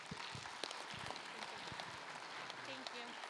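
Faint audience applause at a morning presentation, a soft, steady patter of clapping that carries on with a little speech mixed in.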